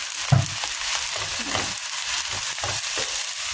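Fried rice sizzles steadily in a pan as light sauce is added, with scraping stir strokes against the pan surfacing every half second or so over the constant frying hiss, close up and without talk.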